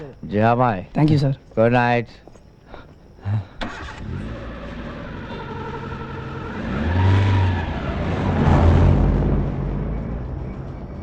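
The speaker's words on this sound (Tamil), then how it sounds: "சார், கார் சவுண்ட் பின்னாடி கேட்குது சார்." A car engine starts and revs at a nighttime departure, rising to a louder swell as the vehicle pulls away, heard after several short spoken lines.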